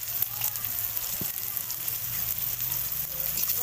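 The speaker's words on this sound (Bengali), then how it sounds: "এবার আমি একটু ভেজে নেবো লাল লাল করে" Onion and garlic fry in oil for a stuffed ash gourd leaf dish, giving a steady close sizzle with a low hum beneath it throughout.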